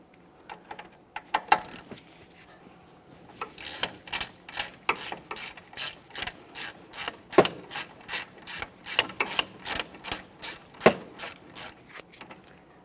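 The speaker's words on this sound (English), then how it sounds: "we'll continue on to fully removing the lower bolt as well" A ratchet wrench loosens the lower brake caliper bolt on a 2010-2013 Kia Forte Koup, giving a close, steady series of rapid clicking bursts in an even back-and-forth rhythm after a few scattered taps.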